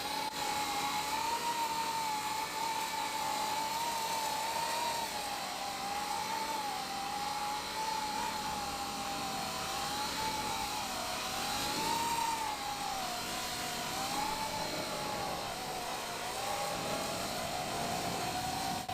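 A drone propelled by the Coanda effect flying at half throttle, giving a steady loud whirring hum with a wavering tonal whine that rises and dips gently throughout, continuous and close.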